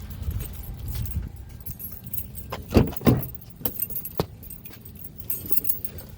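Keys jangle loudly up close beside a 2014 Honda Pilot, followed by brief clicks and faint engine sounds, with a low rumble early on and no talking.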